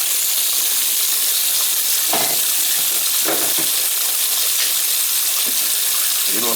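Hot and cold water run together from a handicap sink's faucets and pour into the drain in a loud, steady rushing hiss, with a few splashy gurgles along the way.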